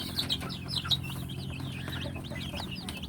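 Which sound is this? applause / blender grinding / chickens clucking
chickens clucking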